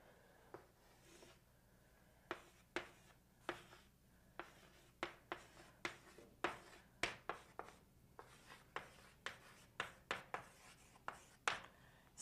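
A pen or pencil writes out a calculus solution by hand, a quiet series of sharp scratchy strokes and taps in irregular bursts, close up and with no talking.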